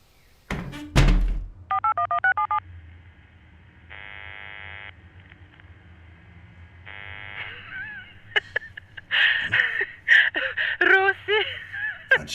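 A telephone is dialed after a loud thunk of the receiver being picked up, with two series of rapid electronic dial tones and a ringback tone between them, then a voice speaks over further tones.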